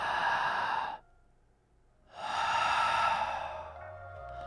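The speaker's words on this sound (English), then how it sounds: "invite your patient to take a deep breath." A patient takes a deep breath during a shoulder massage: a loud, close breath out, a short pause, then a second long, airy breath, with no speech.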